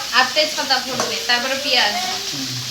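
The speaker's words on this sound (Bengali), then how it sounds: "এটা পেঁয়াজটা ফ্রাই হোক" Onions fry in a pan and are stirred, with a steady sizzle under repeated scraping and clattering strokes of the spoon, loud and close.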